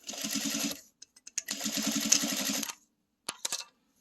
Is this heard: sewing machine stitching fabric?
yes